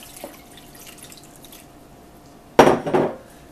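Cold water from a kitchen tap pours into a bowl of peeled potatoes: quiet room tone with a faint clink early, then a sudden loud splashing gush for about a second near the end.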